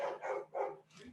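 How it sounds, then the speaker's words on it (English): A dog barks four times in a quick, evenly spaced series. The barks are moderately close but fairly quiet, and nothing else is heard around them. "apparently, if you can hear that barking."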